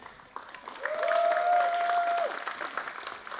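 Audience at a university design showcase gives a brief burst of applause, moderate and a little distant, swelling and fading over a few seconds with a steady tone running underneath.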